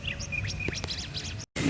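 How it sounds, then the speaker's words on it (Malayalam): Outdoor birdsong at Naduvath Koottanpara rock in Malappuram: several clear, high chirps and tweets in quick succession over a steady natural background, fairly close, cut briefly by a gap near the end. "പക്ഷികള് കിളികളൊക്കെ കേക്കില്ലേ?"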